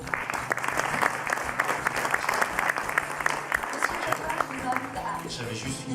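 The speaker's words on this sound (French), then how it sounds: "Merci, on peut les applaudir." Sustained applause from a crowd, steady clapping filling the room for several seconds, with some voices mixed in underneath.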